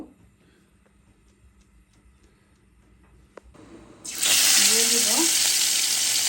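Rice tipped into hot oil with cardamom, cinnamon, cloves and bay leaf for plain pulao bursts into a loud, steady sizzle after about four seconds of near quiet with a few faint clicks.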